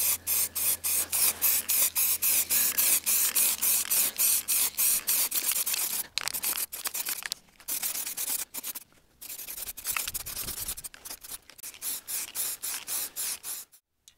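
Spray paint hisses in repeated short bursts while a wet coat goes onto a model, the bursts loud and close with brief gaps, thinning to scattered spurts toward the end.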